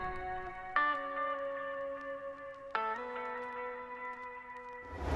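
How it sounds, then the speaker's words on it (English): Clean electric guitar chords ring out in a vintage-style drill beat, each strum sustaining and decaying into a wash of reverb, two distinct strikes a couple of seconds apart heard clearly and alone. "so I added this guitar."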